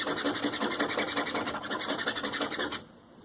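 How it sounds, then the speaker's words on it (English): A squeegee rubbing down a carbon fiber wrap decal, a fast rhythmic rasping scrape of about twenty close strokes, steady and moderately loud, then an abrupt stop into near quiet. "Use my squeegee to make sure that's down nice and tight."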